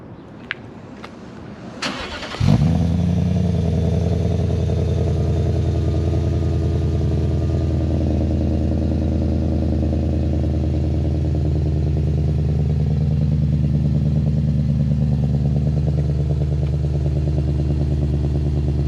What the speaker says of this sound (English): if I click my clicker 3 times slow, we should get a nice startup.